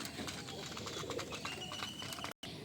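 Pigeons coo softly in the background amid a faint outdoor murmur on a rooftop garden, their low calls repeating over a couple of seconds.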